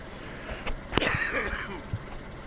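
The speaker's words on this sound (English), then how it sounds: "as I coughed" A short, harsh cough after a long hit of smoke, a couple of quick bursts close by with a wheezy edge.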